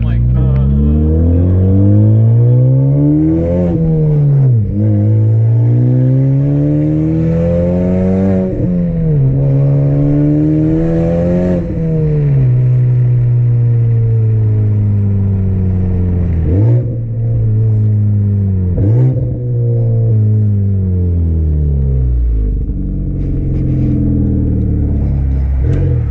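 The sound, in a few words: Honda Civic Type R open front-pipe exhaust revving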